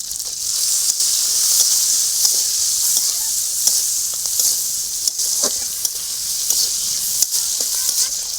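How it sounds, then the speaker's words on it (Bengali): Shrimp seasoned with turmeric and salt fry in hot oil, giving a steady bright sizzle with occasional sharp pops and crackles, close and continuous without talk. "চিংড়ি মাছটা ভাজার জন্য আমি অল্প একটু হলুদ দিয়ে দেবো অল্প একটু লবণ"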